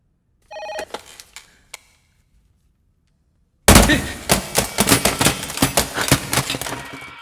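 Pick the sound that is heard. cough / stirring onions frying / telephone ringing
telephone ringing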